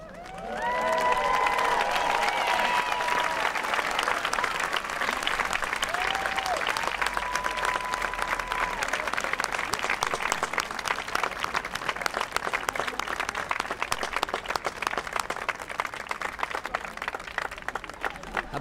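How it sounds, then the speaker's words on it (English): A large crowd applauds steadily at a middle school graduation, with whoops and high cheers rising over the dense clapping early on, then sustained clapping carrying on loudly to the end. "Big round of applause for James."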